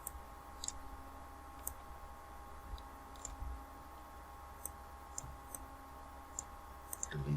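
A computer mouse clicks faintly and sparsely while buttons are dragged around in Visual Basic, the soft ticks scattered over a low room hum.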